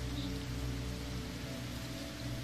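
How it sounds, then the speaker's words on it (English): Soft, steady rain falls into puddles, an even, quiet patter with a faint tonal hum underneath and no pauses or voices. "the rain that falls around you, falling into those puddles"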